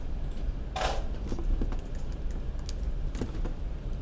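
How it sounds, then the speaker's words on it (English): Typing on a computer keyboard, close up: irregular bursts of key clicks that run steadily for several seconds, with one louder clack partway through. "Notice I'm typing it"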